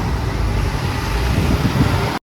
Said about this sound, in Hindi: सुबह सुबह 5 बजे इतनी ट्रैफिक